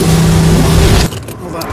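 A costly car's engine rumbles loudly under people talking, then cuts out abruptly as it stalls, leaving a quieter background of voices and faint ambience.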